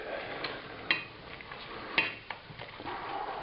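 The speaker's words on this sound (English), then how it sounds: "So now I'm going to stir in the cheese" A spoon stirring cheese into risotto-style macaroni in a pot, with sporadic metallic clinks and scrapes against the pot over a low, soft background.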